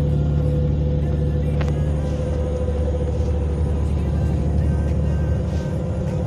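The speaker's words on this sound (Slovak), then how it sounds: "ja už som v autobuse" Inside a bus heading toward Poprad in Slovakia, a loud, steady low engine rumble fills the cabin with a constant drone, and faint rattles and knocks rise now and then above it.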